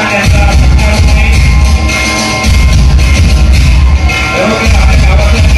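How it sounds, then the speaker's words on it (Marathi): A crowd claps loudly at a village felicitation ceremony honouring elders, with thick continuous applause and some whoops that dip briefly a few times and return at full strength. "जोरदार टाळ्याच्या गजरात त्यांचा सत्कार होणे."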